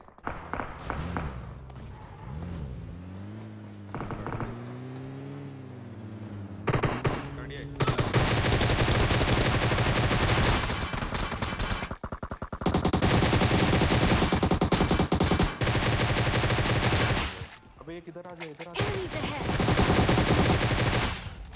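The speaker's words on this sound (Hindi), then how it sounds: "ऊपर से दो चार गोली चलती है" Rapid automatic gunfire from PUBG Mobile gameplay rattles in long, loud sustained bursts, broken by brief pauses and a short lull with other game sounds.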